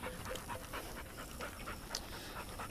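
A dog pants steadily on a nature trail at the Fort Worth Nature Refuge, with quick rhythmic breaths that sound close and moderately loud against a quiet outdoor background.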